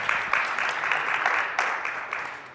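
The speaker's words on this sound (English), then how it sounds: "Round of applause for everybody" A crowd applauds at a SXSW 2022 cannabis industry panel, steady clapping filling the room for a few seconds, dense and fairly close, with no talk over it.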